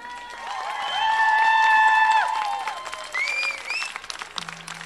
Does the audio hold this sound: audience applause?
yes